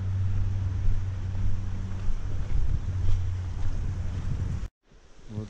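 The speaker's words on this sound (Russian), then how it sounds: "Вот это шум воды." Steady broadband rushing of river water near Snoqualmie Falls, close and continuous, with low wind rumble on the microphone before a brief cut near the end.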